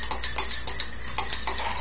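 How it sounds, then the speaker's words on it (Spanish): A fork whisks a homemade egg hair mask mixture in a bowl, giving quick, rhythmic clinking taps that are close and fairly loud, with no talking. "Tengo mi tenedor y voy a batir todo mi menjurje."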